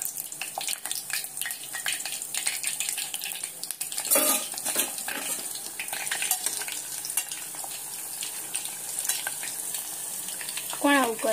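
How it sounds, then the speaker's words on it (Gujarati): Leftover rotli fries in hot oil in a home kitchen, a continuous loud crackling sizzle broken by stirring scrapes and utensil clatter. "આજે કાલની રોટલી હતી એને તળવાની છે."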